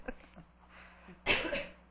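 A single sharp cough from a woman with a sore throat bursts out loud and close after a quieter stretch, trailing off over about half a second.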